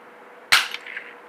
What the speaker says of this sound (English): Now you're gonna notice this one will try to lift up on me when I fire it off.